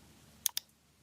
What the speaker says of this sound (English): We create the first column by clicking the previously created nodes one by one.